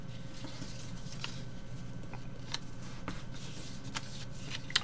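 Paper being creased and folded by hand into an origami piano model, a soft steady rustle with light crinkles and a few sharper crisp snaps near the end, close and alone with no talk.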